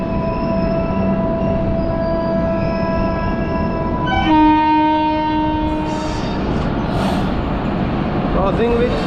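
The Mahagoda Express passes the moving Pratap Express on Indian Railways, a loud close rail rumble with a sustained tonal horn blast that cuts off midway, followed by brief squeals and clatter.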